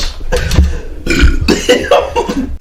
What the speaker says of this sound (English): You have to burp?